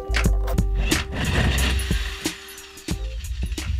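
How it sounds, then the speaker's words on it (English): Cutting a drain hole through the floor of a school bus being converted, with repeated sharp tool bursts and rough grinding over a low steady hum, close and loud. "and then cut the actual hole for the drain"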